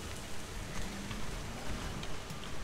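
Steady rain falling in the game Guild Wars 2, a dense continuous hiss with soft patter that swells slightly in loudness, heard alone without talk.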